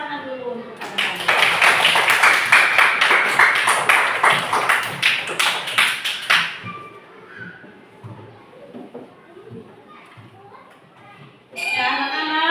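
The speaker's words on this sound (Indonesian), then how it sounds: "Silakan tepuk tangan dulu untuk anak-anak" Children clap their hands in a classroom, a dense burst of many small hands lasting about six seconds, then fading into scattered chatter and murmuring before a brief loud noise at the end.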